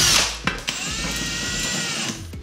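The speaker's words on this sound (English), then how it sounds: "I'm gonna drive this bolt into this toggler" A power drill drives a bolt into a toggle anchor in drywall while mounting a Samsung Frame TV wall bracket, giving a close whirring motor whine that holds steady for about two seconds between brief clicks at the start and end.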